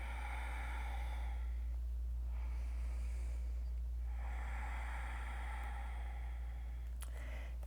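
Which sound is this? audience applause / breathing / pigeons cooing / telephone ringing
breathing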